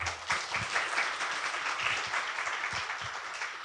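Audience applauding at a Korea University leader lecture series event: sustained, dense clapping from a crowd filling the whole stretch at steady loudness, with no speech over it.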